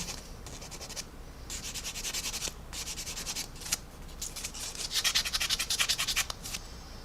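A sanding stick is rubbed lightly along a mold-line seam on a small plastic part from a 1/35 Academy AH-1Z Viper model kit. Close, steady back-and-forth scratchy strokes come in quick rhythmic bursts, alone and fairly faint.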